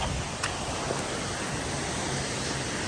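Rushing water from a waterfall in the Lake District makes a dense, steady roar that fills the whole moment with no break.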